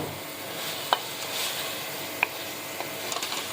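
Broad beans and potatoes roasting in a pan over low to medium heat give a quiet, steady sizzle broken by a few sharp spatula clicks and scrapes, with no talk.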